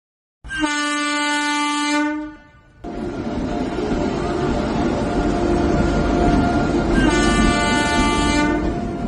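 A cartoon-style train sound effect: a loud harmonic horn blast, then a steady rumbling, clattering roll of wagons, and a second horn blast near the end, with no voices.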